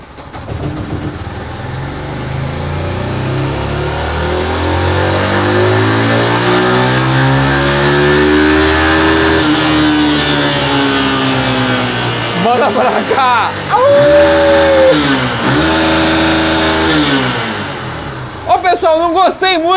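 A carbureted 150cc motorcycle engine fitted with a performance camshaft revs in fifth gear, its loud, buzzing note rising and holding high before several sharp throttle blips toward the end, with voices faintly in the background.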